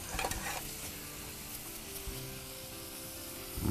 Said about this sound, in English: after get them sauteed a little bit